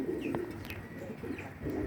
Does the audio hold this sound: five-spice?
no